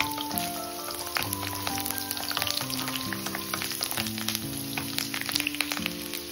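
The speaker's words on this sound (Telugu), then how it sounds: "1 పిడికెడు వెల్లుల్లి రెబ్బలు తరిగి వేసేసుకోవాలి." Chopped garlic sizzles steadily in hot oil in a kadai, with oil left over from frying chicken. The crackle is soft and continuous beneath louder background music.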